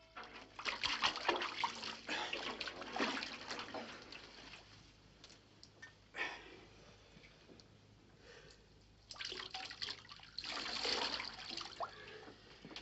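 Water splashes and pours as a small terrier is bathed indoors, with bursts of sloshing and running water separated by quieter pauses, close by and with no talking.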